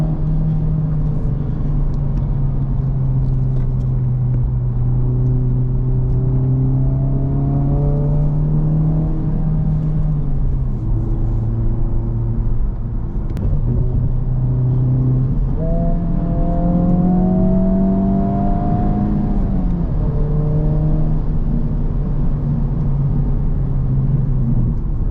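A 2024 Honda Civic Type-R FL5 engine hums steadily and rises in pitch as it accelerates through gears, a continuous close cabin drone with brief dips at shifts and no talking.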